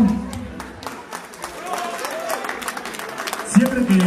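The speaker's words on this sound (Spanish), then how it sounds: "Vamos a darle un fuerte aplauso" An audience applauds at a DJ event in Zumpango, State of Mexico, with dense, continuous clapping running throughout at moderate level under crowd noise and a brief voice.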